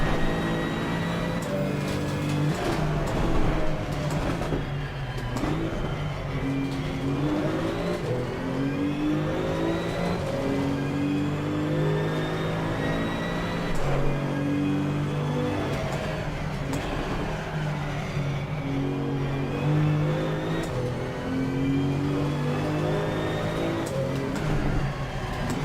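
GT2 race cars, including KTMs, roar around the Red Bull Ring in a racing video game, with engines climbing and dropping through repeated revs and upshifts, loud and sustained, one engine close and others sweeping past.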